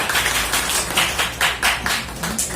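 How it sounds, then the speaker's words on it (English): Audience at a talk event clapping in scattered, uneven bursts, fairly close and sparse rather than a full ovation. "let us give a warm round of applause to David Castro."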